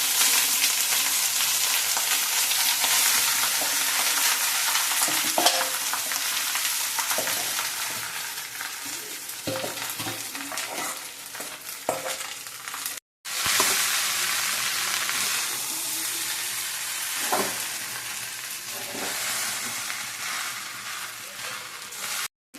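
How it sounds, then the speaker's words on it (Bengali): Boiled Gobindobhog rice seasoned with turmeric and salt tipped into a hot pan of frying ingredients and stirred, giving a steady loud sizzle with scraping stir strokes throughout and a brief break near the middle. "এর মধ্যে এই হলুদ আর নুন দিয়ে সিদ্ধ করা চালটা গোবিন্দভোগের ভাতটা ঢেলে দিই"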